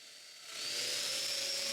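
A power drill bores mortises into a wooden chest of drawers panel, a steady whirring hum that rises quickly and holds, fairly quiet and alone.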